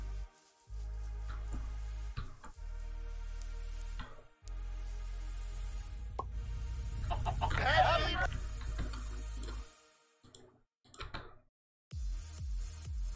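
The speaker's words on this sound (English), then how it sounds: "More chickens." Chickens clucking in the Minecraft modpack Project Ozone 3, a few short clucks over a steady low game hum and footsteps, with a louder burst of activity midway and brief gaps of silence near the end.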